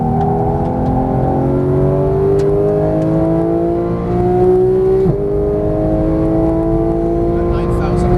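A Porsche 911 GT engine revs up while accelerating on a Las Vegas race track, its rising whine climbing steadily in pitch with a brief shift and drop midway, loud and close from inside the car, with a voice faintly present.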